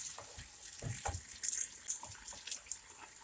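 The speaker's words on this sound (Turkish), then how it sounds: "içerisine şöyle bir çay bardağına yakın su ilave ediyoruz" Water from a tea glass is poured into tomato paste that has been lightly fried in a pan for a Kayseri mantı dish. A short, close splashing gush with no voices.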